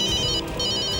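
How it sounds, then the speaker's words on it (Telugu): An incoming call's phone ringtone sounds as a bright, pulsing electronic melody, loud and close, with a brief gap in the middle of the ring. "మొదటిసారి సరైన సమయంలో ఫోన్ చేశారు ఆలియా గారు."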